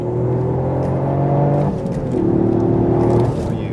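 A three-cylinder car engine with piped-in engine noise hums steadily from inside the cabin, a smooth droning tone that dips and then shifts to a new pitch partway through.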